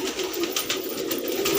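Fancy pigeons, including an old bird, cooing close by in a pigeon keeper's loft in Trilokpuri, Delhi, with soft repeated throaty coos over a busy background.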